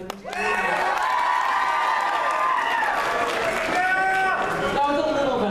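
Children in a school gym on elective day cheer and shout loudly as a crowd, a continuous noisy roar with excited voices throughout, swelling slightly near the end.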